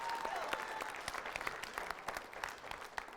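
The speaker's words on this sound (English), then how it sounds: "Give the guy a big round of applause." Audience applause fills a room after a participant is honored at an evening gathering, a steady patter of clapping hands that stays moderately soft and even throughout, with some crowd murmur and no distinct speech over it.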